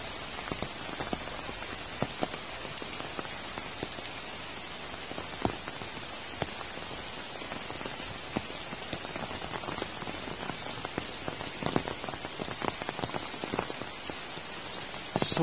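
Rain falls steadily in a remote Javanese village on a slippery, mossy path, a continuous patter of drops hitting surfaces with no voices.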